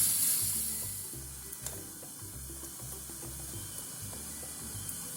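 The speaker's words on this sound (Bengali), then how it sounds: "এবার আস্তে আস্তে নেড়ে চেড়ে নারকেলের পুরটা আমি রেডি করে নেব" Grated coconut filling for palm fruit pitha is slowly stirred in a hot pan, giving a soft sizzle with repeated low scraping strokes in a steady rhythm, close and fairly quiet.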